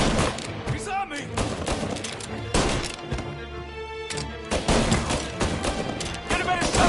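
Gunfire in Mafia: Definitive Edition, a string of sharp shots and bursts at close range, dense and loud, with in-game voices shouting over the fighting.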